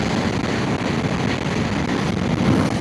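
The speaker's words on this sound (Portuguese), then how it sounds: "o vento hoje tá nervoso aqui" Strong wind buffets the microphone as a Ducati Multistrada V4 S motorcycle rides along, with a steady, loud roar of rushing air and no voices throughout.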